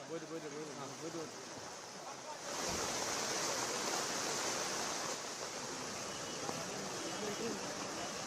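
Floodwater rushes through flooded streets and market areas in Kerala, a steady broad roar of moving water that swells louder after a few seconds, with faint voices under it at the start.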